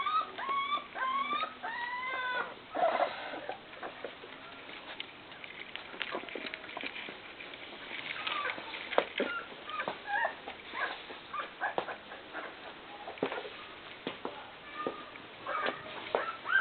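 Young puppies make yelps, whimpers and small barks up close, with rapid high-pitched cries at first and then intermittent yips over rustling and light pattering.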